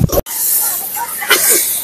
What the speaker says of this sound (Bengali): মাছের মাথাটা দিয়ে দিলাম আর মশলা ভালো করে কষাইলাম